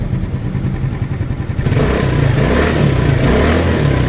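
A Yamaha Mio scooter engine starts and idles after conversion to a 4-pin DC CDI, giving a loud, close, uneven putter that settles into a steadier, fuller running drone.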